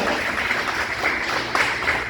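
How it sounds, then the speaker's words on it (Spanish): A congregation at a church evangelism gathering claps together in continuous, moderately loud applause, with a few sharper claps standing out. "Un aplauso para Darío, de verdad."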